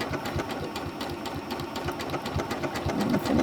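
A sewing machine runs a straight stitch along a fabric fold, its rapid, even needle chatter continuous and close, fairly quiet and with no talking.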